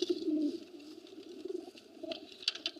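Soft, throaty cooing from aged pigeons kept in a pigeon house, with light pattering and scratching of feet and wings scattered through the quiet.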